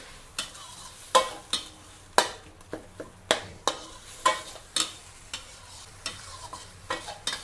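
Minced pork stir-fried in a pan with a splash of liquid: a low sizzle punctuated by sharp, regular spatula scrapes and knocks about every half second, close up and with no talking.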